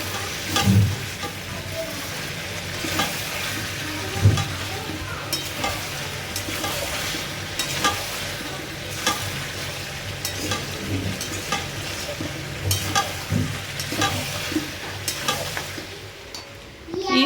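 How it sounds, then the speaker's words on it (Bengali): Meat braising in a pan in a home kitchen, stirred throughout: a steady, close sizzle of frying runs underneath, broken by regular scraping and clacking strokes of the spoon against the pan, with no one speaking. "মাংস কষা হচ্ছে।"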